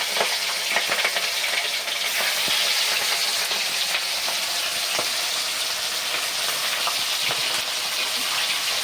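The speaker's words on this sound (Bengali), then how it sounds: "এবার তেলটা ভালো করে গরম হয়ে গেছে, এবার আমি মাছটা তেলের মধ্যে দেবো" Pieces of fish sizzle loudly and steadily in hot oil in a pan, a dense, continuous crackle with occasional louder pops close by.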